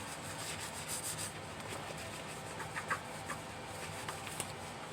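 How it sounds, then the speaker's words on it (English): A bristle brush scrubs equipment during decontamination, a soft continuous rubbing with small scratchy bursts, close but faint, with no talk. "you also want to use the bristle part, which is this part, to make sure that you're scrubbing everything out of it"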